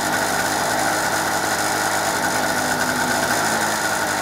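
A small two-stroke petrol generator, recently restarted after two years unused and still cold, runs steadily nearby with a dense, buzzing, unbroken engine drone and no load or talk.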